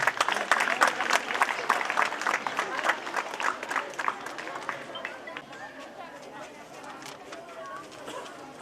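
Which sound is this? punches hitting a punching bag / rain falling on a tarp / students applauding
students applauding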